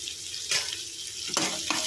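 Poha being stirred in a hot frying pan with turmeric and salt, a soft sizzle broken by three quick scraping sweeps of the spoon.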